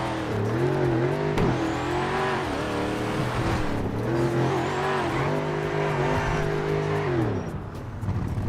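Ford F-150 truck driving in GTA RedlineRP, its engine revving loud and close with rising and falling pitch across several gear shifts, with a light tire squeal near the end.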